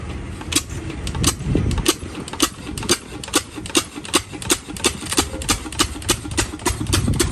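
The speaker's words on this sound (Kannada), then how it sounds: "ಈ ಕಂಪ್ರೆಸರು, ಹಳೇ ಕಂಪ್ರೆಸರು, ಹಳೇ ಜನರೇಟರ್ ನೋಡಿ." An old compressor or generator at a tyre puncture repair shop runs with a rapid, regular mechanical knocking and clatter over a low rumbling drone, loud and close, with no speech.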